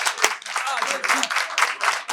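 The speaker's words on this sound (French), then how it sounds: "On applaudit très fort pour lui." A studio audience on a French talk show about gossip claps loudly, with dense, quick handclaps over about two seconds and some voices mixed in.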